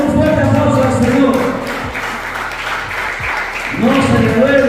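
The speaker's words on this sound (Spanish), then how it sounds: "den un fuerte aplauso al Señor" Congregation applause in a church, clapping under strong sustained music or voices, loud and continuous, the music thinning briefly in the middle before swelling again.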